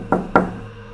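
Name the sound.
loud knock at the door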